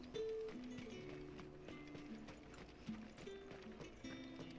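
Chocobo mount running in Final Fantasy XVI, a steady rapid clip-clop of footfalls close by, mixed with game music and ambient sound, with no talking over it.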